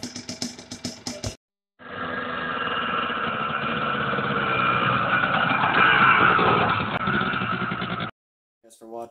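A 2006 Yamaha Blaster 250 quad runs steadily after a top-end rebuild, its single-cylinder engine close and loud for about six seconds with a slight rise in revs, then cutting off; brief voices come just before and after.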